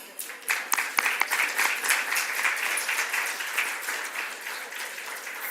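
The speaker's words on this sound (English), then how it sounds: "Please clap for yourselves." Conference attendees clap for themselves at the close of a clinical coding conference. A few sharp early claps swell into sustained, dense applause that slowly tapers off.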